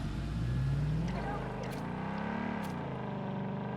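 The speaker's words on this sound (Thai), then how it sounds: "เขาขี่รถไปดีกว่า" A vehicle engine in the shooter game Blood Strike drones steadily throughout, its pitch rising and then wavering as it drives, with a faint voice in the background.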